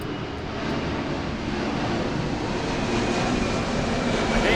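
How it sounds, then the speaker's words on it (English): A Boeing 747 jet airliner roars overhead, a broad continuous rumble that swells slightly louder as it passes, with no voices. "I think that's a 747. That was louder than the rest."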